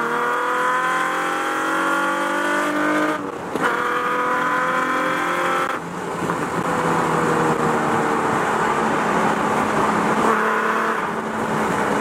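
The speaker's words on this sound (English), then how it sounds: "give you some raw sound clips of my header straight pipe dump setup" A loud Nissan 350Z engine revs and drones through a raw, unmuffled header straight-pipe dump exhaust, rising and falling in pitch with sharp throttle blips, close up.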